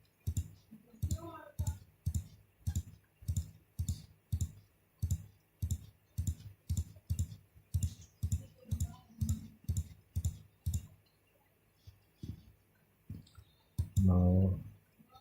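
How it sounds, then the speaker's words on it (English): A series of mouse clicks on web page buttons, about twenty quick, evenly spaced taps heard close up, followed by a pause and then a brief burst of another sound near the end, with faint speech in the background. "Let us click on buttons randomly"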